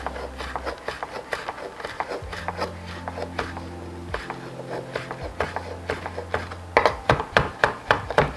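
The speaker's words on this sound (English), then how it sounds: "So our rosemary, I'm going just roughly chop it." Rosemary being roughly chopped with a knife on a board, a run of quick irregular close taps that speeds into a sharper burst at the end, alone without talk.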